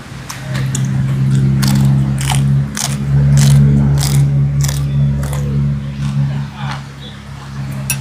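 Crisp, crackling crunches from biting crunchy roast pig skin (lechon), repeated bites over a steady low hum, with voices talking in the background.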